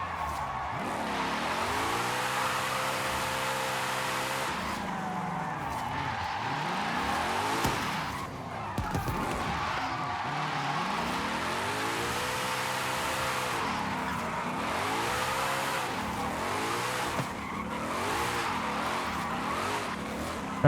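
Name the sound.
car drifting with tire skids in video game Forza Horizon 5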